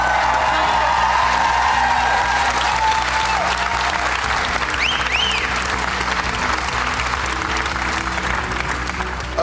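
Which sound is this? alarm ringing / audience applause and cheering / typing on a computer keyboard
audience applause and cheering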